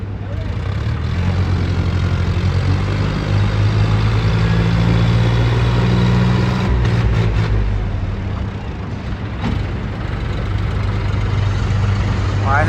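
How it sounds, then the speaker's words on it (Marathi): A tractor engine runs steadily and loudly after crossing through water, with a continuous low rumble the whole time and a little background noise over it. "फायनली पाण्यामधून गेला ट्रॅक्टर."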